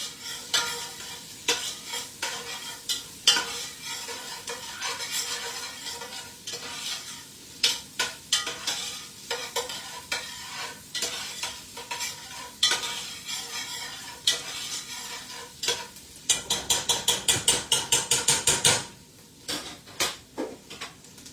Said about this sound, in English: We're getting to the part where the onions are sauteed up, so we just throw it straight in.